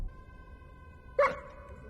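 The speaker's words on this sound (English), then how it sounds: "Dog trying to warn you again." A dog in a TV show gives a single short, sharp bark over a faint steady background tone, fairly close and brief.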